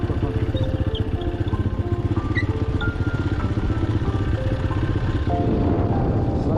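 A restored, modified motorcycle with a handmade silencer runs close by, its engine throbbing loud and steady throughout with a rough, uneven edge.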